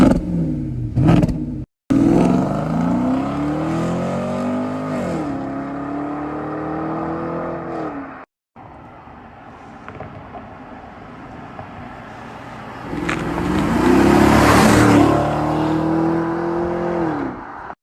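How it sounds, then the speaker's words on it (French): Black Porsche Cayenne S with a naturally aspirated V8 revving repeatedly, each rise and fall of engine pitch clear and loud, with a harsher, stronger blip near the end and brief gaps between runs. "Le Cayenne noir fait donc un bruit magnifique. On l'aura tous reconnu, c'est un Cayenne S atmosphérique."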